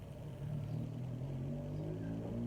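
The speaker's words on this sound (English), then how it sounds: "Sorry about the car noises, I got my door open." Low rumbling of passing cars drifts in through an open car door, a steady engine hum with a slight rise in revving, fairly quiet and without voices.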